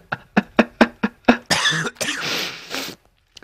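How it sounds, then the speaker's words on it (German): Several sharp, close coughs in a quick rhythmic burst, followed by a longer rasping, throat-clearing cough that trails off; no talking. "Hust."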